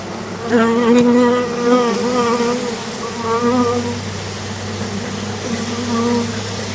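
Honeybees buzz loudly and close by at a hive, a dense droning hum that swells and fades, with a person speaking over it at times.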